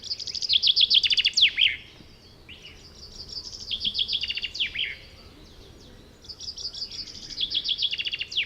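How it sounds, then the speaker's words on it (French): A chaffinch sings three bright, descending trilled phrases ending in a flourish, separated by short pauses, clear and fairly near over a faint background hum. "Le pinson des arbres."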